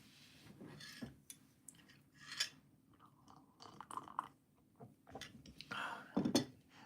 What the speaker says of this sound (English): Those of you who like sounds can hear me slurping the hot chocolate.